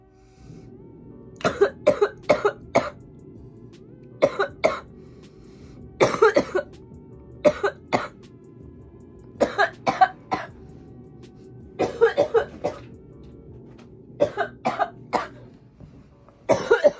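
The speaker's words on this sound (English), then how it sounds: "I'm having a cough attack." Repeated bursts of harsh coughing in clusters of two to four, close and loud, with short pauses between fits over a low steady background hum.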